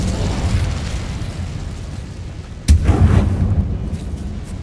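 Incendio fire spell cast in Hogwarts Legacy, a sudden loud whooshing burst partway through that swells into a roaring low rumble over a steady background of game noise.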